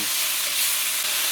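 Onions fry and caramelize in oil with a little salt in a pan, giving a loud, continuous close-up sizzle, a steady bright hiss with no talking over it.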